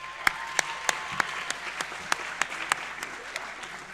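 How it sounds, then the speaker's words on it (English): Sharp, evenly spaced claps ring out in a room at a student-athlete awards evening honoring lacrosse players, a sparse, rhythmic round of applause lasting a few seconds with no talk. "So I really want to start with giving them a round of applause,"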